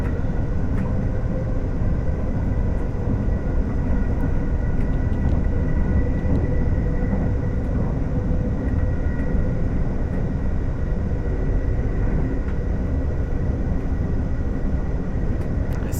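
GWR Class 802/1 IET train running on the Riviera Line near Plymouth in Train Sim World 6, a continuous loud low rumble with steady engine and traction drone and faint higher tones over it.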